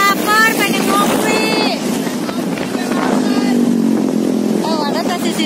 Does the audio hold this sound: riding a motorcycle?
yes